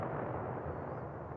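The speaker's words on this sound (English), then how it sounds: "ooh, another explosion there." A heavy, booming explosion in the space combat game Nebulous: Fleet Command, one dense, loud blast rumbling on without a break.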